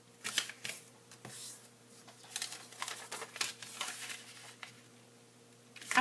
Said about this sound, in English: We're going to fold in half diagonally both ways.